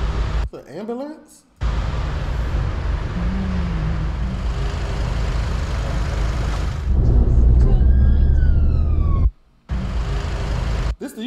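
An ambulance siren wails continuously at close range amid loud rush-hour traffic rumble on a UK motorway, with brief cutaways and a rising electronic tone near the end.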